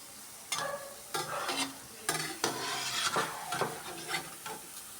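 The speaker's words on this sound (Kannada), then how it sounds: "ಗೋಲ್ಡನ್ ಕಲರ್ ಬರೋವರೆಗೂ ನಾವು ಫ್ರೈ ಮಾಡ್ಕೊಬೇಕು" Gulab jamun deep-frying in oil, a faint steady sizzle broken by several distinct stirring or ladle scrapes in the pan, close by with no talk.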